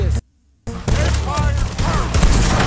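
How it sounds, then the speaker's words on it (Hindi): Gunfire rings out in the open-world Western game Red Dead Redemption 2, a sudden silence giving way to a dense, loud fusillade of overlapping shots and echoing reports that keeps going to the end. "पीछे वालों ने गोलियां चलाना स्टार्ट कर दिया"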